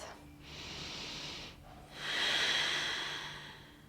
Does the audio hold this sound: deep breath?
yes